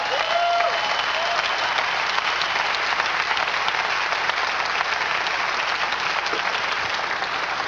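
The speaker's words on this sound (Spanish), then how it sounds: "¿Quiere darle un aplauso al Señor?" A church congregation applauds the Lord, a dense, steady wash of many hands clapping throughout, loud and continuous with no break.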